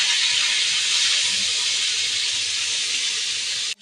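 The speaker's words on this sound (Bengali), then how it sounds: "এই মাছগুলো ভেজে নিচ্ছি।" Fish frying in a hot pan in a home kitchen, a loud steady sizzling hiss held close throughout, cutting off abruptly at the end.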